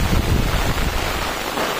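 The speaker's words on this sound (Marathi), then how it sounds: "वारा पण आहे, पाऊस पण आहे." Wind and rain outdoors on a village road in the Konkan countryside, a loud steady rushing roar with heavy buffeting against the microphone and no talking.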